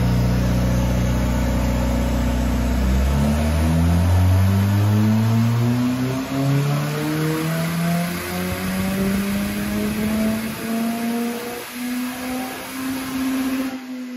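A Ford Fiesta ST with a 1.6 EcoBoost engine, big turbo, forged internals and water-methanol injection, revving on a dyno, its loud engine note sweeping steadily upward in pitch over about fourteen seconds.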